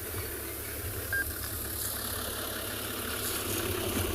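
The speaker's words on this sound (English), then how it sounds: "as you can hear the car coming in" A safari vehicle in South Africa approaches with a low, steady engine rumble, moderately faint under outdoor ambience, holding even for the whole stretch.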